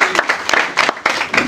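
An audience at an entrepreneurship training seminar claps for a volunteer in a short burst of applause, with a little talk mixed in.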